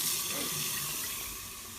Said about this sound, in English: stop the cooking process as quickly as you can by putting freezing cold water on those eggs